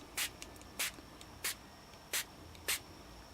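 Five short, sharp hisses from a spray bottle misting water onto watercolor cardstock in an uneven rhythm, close and quiet, with near silence between the bursts.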